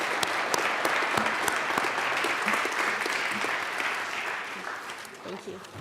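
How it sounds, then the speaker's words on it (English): Applause fills a state House chamber during a legislative session of the Colorado General Assembly, a steady dense wash of clapping from many hands that holds level for several seconds and eases slightly toward the end. "So please give them a round of applause, and we're so happy to have you here."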